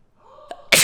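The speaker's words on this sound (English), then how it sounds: "I have to sneeze." A single sneeze, preceded by a quick sharp inhale and ending in a loud, close explosive burst.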